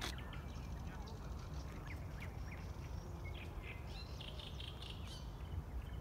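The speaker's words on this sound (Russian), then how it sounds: "О, смотрите, мама утка и маленькие утята." Mother duck and ducklings by a river, quacking and peeping in short high calls that come and go over steady outdoor background noise.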